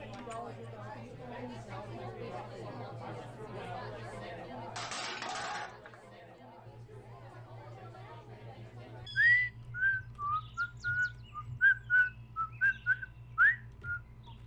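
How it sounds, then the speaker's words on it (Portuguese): A person whistles a lively tune of short, repeated high notes in a Minecraft machinima scene, clear and near, following chatter and game noise. "você não para de assobiar"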